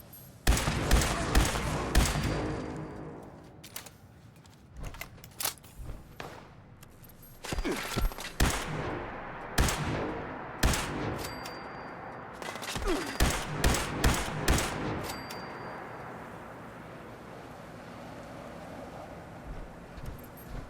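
Gunfire in the online game Fallout 76: repeated loud shots come in bursts and single cracks across the whole stretch, some rapid and clustered, with brief pauses between volleys.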